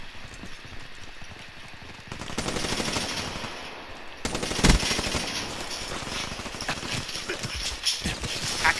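Rapid automatic gunfire in Black Ops 3 from an HVK-30 rifle, heard as loud bursts of shots that grow denser and louder partway through, with no talk.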